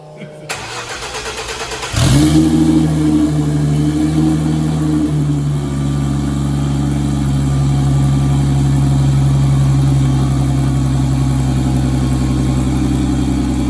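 A twin-turbo V6 race car fires up after a brief crank and then settles into a steady, fairly quiet idle with a low, even rumble that holds close by for more than ten seconds.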